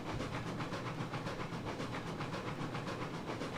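A steam train moving in the Railroads Online video game, giving a faint, steady rhythmic chuffing and hissing that continues evenly throughout.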